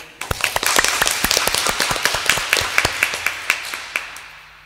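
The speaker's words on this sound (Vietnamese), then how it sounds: "Chúng ta cho một tràng pháo tay để chúc mừng Tết." A church congregation at Sunday Mass claps for the Lunar New Year (Tết), a dense, lively round of many hands that starts sharply, holds steady, and fades toward the end, with no talking.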